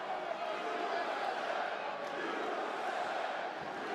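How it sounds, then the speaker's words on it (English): A Boston crowd at a UFC-style fight roars steadily behind the American fighter Jeremy Stephens, a dense, continuous wall of cheering and shouting with no clear pauses. "Boston crowd getting behind the American Jeremy Stephens."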